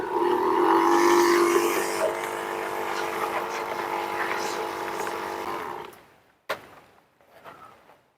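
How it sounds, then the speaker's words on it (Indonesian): A small petrol sprayer pump engine on a tank used for spraying a chili crop runs with a steady buzzing drone for about six seconds, then cuts out, leaving a sharp knock and faint clatter. "Baru kita nyalakan pompanya seperti ini."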